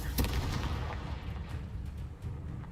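A Confringo fire spell blasts in the Hogwarts Legacy video game, a sharp explosive burst followed by rumbling booms and crackling impacts that fade into a dense, continuous battle roar.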